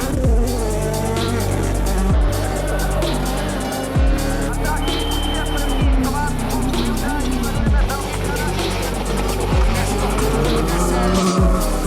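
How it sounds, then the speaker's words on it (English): WRC rally cars coming off a super stage roar past one after another, engines revving loudly and dropping in pitch as each passes, with occasional tire squeal and people talking in the background. "we've just managed to catch the R1 cars coming off the super stage"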